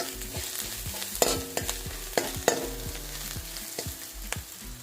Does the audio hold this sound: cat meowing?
no